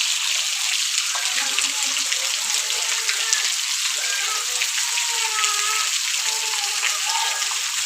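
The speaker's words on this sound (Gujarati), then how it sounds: "1 કલાકથી ચાલુ છે, હજી જો હજી વરસાદ ગયો નથી" Heavy rain pouring for a long spell, a dense continuous hiss of drops on surfaces, steady and fairly loud, with faint speech at times.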